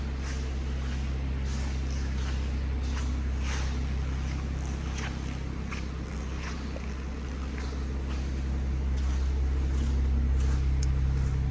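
A BMW M240i engine idles steadily after start-up, a low, even rumble that stays constant throughout and is heard close by with no talk over it.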